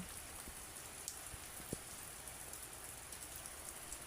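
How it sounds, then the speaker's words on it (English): Light drizzle falls outside, a faint steady hiss with occasional soft drips and no voices. "it's still drizzling meanwhile"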